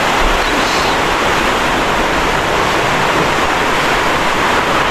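Strong typhoon wind during a Signal No. 4 storm, Typhoon Tino, roars as a loud, unbroken wash of broadband noise with no voices.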